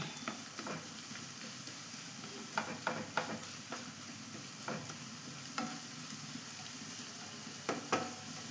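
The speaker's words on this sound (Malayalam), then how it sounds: "ഉള്ളി തക്കാളികളെല്ലാം നല്ല അടിപൊളിയായിട്ട് ആയിട്ടുണ്ട് ഗൈസ് ഒന്ന് നമുക്ക് എല്ലാം ഉടച്ച പോലെ ആക്കി കൊടുക്കാം" Onions and tomatoes stirred and frying in a pan for an egg masala stir-fry, a steady soft sizzle under repeated scraping clicks of a spatula against the pan, close and fairly quiet, with no talking.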